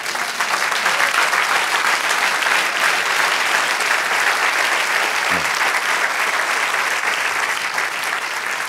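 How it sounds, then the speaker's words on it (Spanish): Sustained applause from a Spanish-speaking church congregation fills the room evenly from start to finish, many people clapping together in a dense, continuous roar with a faint murmur of voices beneath. "Denle un aplauso al Señor."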